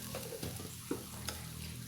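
Noodles and minced lemongrass being stirred in a pan with the heat just switched off, giving soft scraping stirs over a faint sizzle, close up with no talk.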